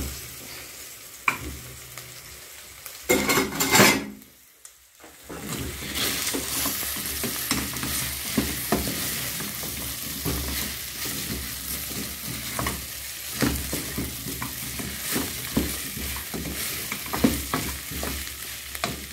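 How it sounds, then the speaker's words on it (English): Potatoes tumble into a pot of beef stew or goulash and are stirred through the sauce, with a loud clatter and splash early on, then steady scraping and faint simmering sizzle continuing without talk. "Next we're going to add our potatoes."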